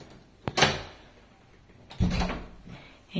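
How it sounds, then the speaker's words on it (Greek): Hotel room door in Milan swung and shut: a sharp knock-like thud, a rustle, then a heavier closing impact and latch, close by with no talk over it. "κάτσε να κλείσει την πόρτα"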